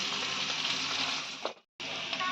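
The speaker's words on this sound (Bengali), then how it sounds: "যতক্ষণ আমাদের পেঁয়াজটা ভাজা ভাজা হচ্ছে" Onions frying in a pan for a light summer fish curry, a steady loud sizzle that dips to silence for a moment near the end before the hiss resumes, with no talking.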